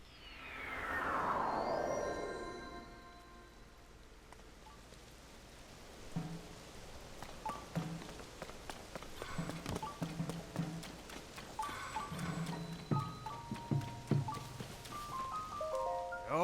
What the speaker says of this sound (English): And it's still raining, jeez.